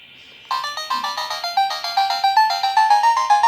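Chiptune-style electronic effects from a classic tank base-defense game on a handheld console: a steady run of rapid, bright pulsing beeps that step slightly in pitch, fairly loud with nothing else behind them.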